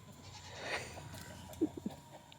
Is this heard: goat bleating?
yes